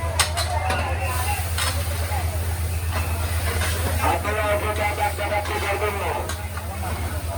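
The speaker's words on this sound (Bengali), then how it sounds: "এখানে ডাল রান্না হচ্ছে" Dal is cooked in bulk for a huge devotee gathering, with a continuous stirring scrape and a steady bubbling sizzle from large pots over a constant low rumble, while someone talks over it.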